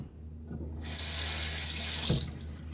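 Tap water runs into a sink while a shaving soap tub is rinsed, a steady close splashing that swells louder partway through, with no talking.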